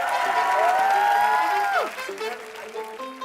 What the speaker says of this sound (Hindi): जोरदार तालियां हो जाए साजिद सर के लिए।